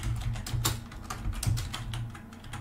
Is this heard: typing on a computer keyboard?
yes